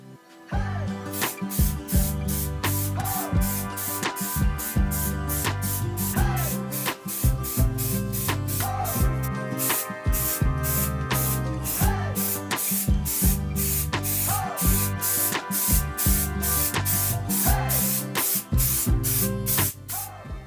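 A spray can lays clear coat onto motorcycle engine cylinder heads and sump, loud repeated short hissing bursts in a steady rhythm, close by with no talk.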